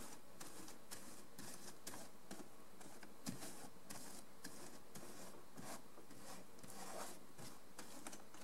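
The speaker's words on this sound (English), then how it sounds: "rub it well to get the plaster spread around pretty evenly on the cloth" Plaster cloth is rubbed by hand to spread the plaster evenly for model railroad scenery, giving soft, continuous rasping strokes that repeat in an uneven rhythm, close and quiet with no talk.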